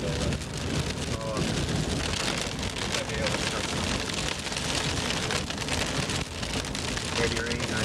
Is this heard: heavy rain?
yes